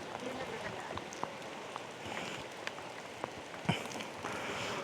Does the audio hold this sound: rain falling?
yes